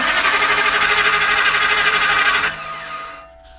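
Starter cranking the engine of a 2000 Ford Excursion with the truck in park, a loud steady whirring drone that runs for about two and a half seconds before cutting out and fading.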